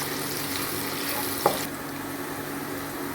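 Onions and chicken frying in a pan, giving a steady broadband sizzle that carries on with little change, along with one brief sharp clink partway through.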